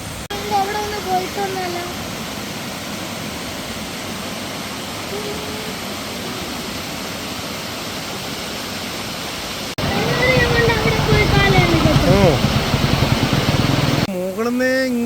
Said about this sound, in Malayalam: അവിടെ നീ വെള്ളച്ചാട്ടം നോക്കിയേ